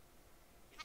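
A sheep in the Minecraft video game gives a short bleat that rises near the very end, after a quiet stretch of faint background.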